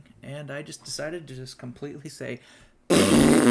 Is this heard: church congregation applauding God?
no